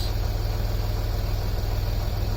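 A Land Rover Discovery 3 or 4 common-rail diesel engine idles steadily with a low, even rumble and a constant mechanical clatter, loud and close, with no voices.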